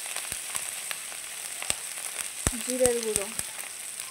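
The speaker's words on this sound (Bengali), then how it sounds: "দিয়ে ভালো করে মশলাটাকে একটু কষিয়ে নেব।" Spices including cumin powder fry in oil in a pan for a Bengali egg kofta curry, a faint steady sizzle broken by soft clicks and taps, while a voice speaks briefly.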